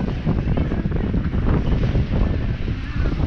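Strong wind buffets the microphone in gusty rumbles, mixed with the wash of water around a sailing boat crossing the Strait of Messina.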